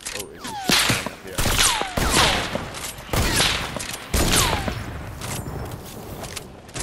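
Sniper rifle shots in a shooter video game, several sharp loud cracks with ringing tails spaced about a second apart, over dense game noise and occasional talk.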